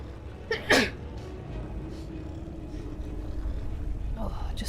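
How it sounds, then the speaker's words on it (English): A single sharp human sneeze, preceded by a brief intake of breath, close and loud against a quiet room hum, followed by silence. "I'm going to sneeze."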